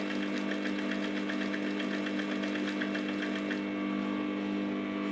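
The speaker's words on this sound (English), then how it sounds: "So now I'm stitching the other side." Sewing machine stitching a bustier, a steady close whirring hum with a rapid even needle patter that stops near the end, no talking.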